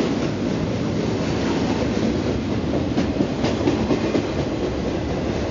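A two-mile-long double-decker freight train runs through Banff, its steady, loud rolling rumble carrying repeated clickety-clack wheel beats close by, with no voices.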